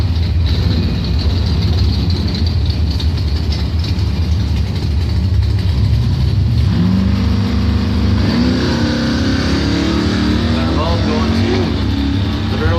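Doorslammer drag race cars, including a street-driven Taurus, roar loudly and continuously at a Bonfire Salute drag meet, engines rising in pitch as they accelerate, while an announcer talks over them.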